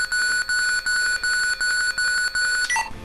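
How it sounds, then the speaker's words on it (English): A looped guitar-unplugging noise, turned into an alarm-clock effect, rings in even rapid bursts of shrill electronic tone, about eight pulses in a row, then cuts off with a short descending warble. "just basically looped the sound to get this alarm clock sound."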